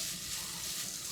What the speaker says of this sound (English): So add your bacon to the skillet.